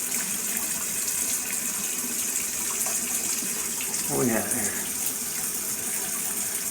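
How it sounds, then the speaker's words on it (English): Water from a tap runs steadily into the tub of a ROVSUN 26 lb portable washing machine, a continuous bright hiss, with someone briefly speaking close by partway through. "There, you can see water is running in."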